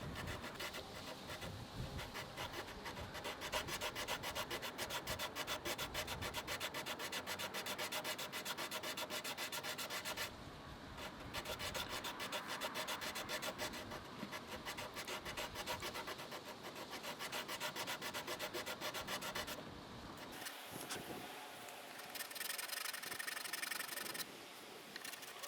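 Sandpaper rubs back and forth on a wooden Epiphone guitar headstock in long, fast, continuous scratchy strokes with a few short pauses, close and fairly quiet, with no talking.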